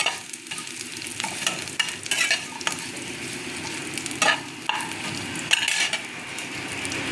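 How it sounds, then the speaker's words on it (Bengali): Black cumin seeds fry in hot oil in a home kitchen pan for a Bengali-style bharta, giving a steady close sizzle broken by several sharp scrapes and knocks of stirring, with no voices. "কালো জিরেটা ভেজে নেব।"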